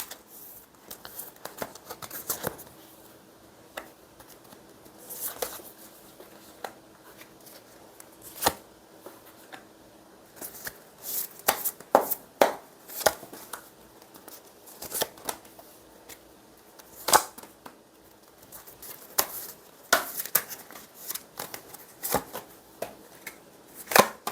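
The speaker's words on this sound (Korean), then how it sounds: "우리 1번님 카드 먼저 뽑아볼게요" Tarot cards are shuffled and drawn in a steady run of crisp, close riffles and soft slaps, with scattered louder snaps as individual cards are pulled and laid down.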